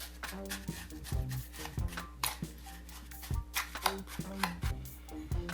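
Coffee, brown sugar and cinnamon are stirred together in a bowl, making irregular soft clicks, taps and scrapes close by, with no talking.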